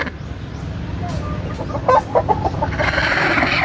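Brooding hens on a farm cluck in short, repeated bursts over a steady background hum, with faint voices and other fowl sounds mixed in.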